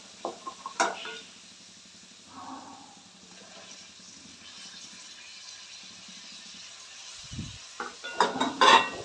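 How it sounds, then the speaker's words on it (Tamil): Tomatoes and onion sauteing in a pan for spicy bread upma, a soft continuous sizzle with a spoon scraping and clinking against the pan, louder stirring knocks toward the end. "தக்காளி சேர்த்து நல்லா வதங்கட்டும்."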